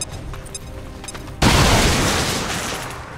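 A frag grenade exploding in the video game XCOM 2: a single loud, close blast that bursts in abruptly after a quieter stretch of game sound and decays slowly into a long rumbling tail.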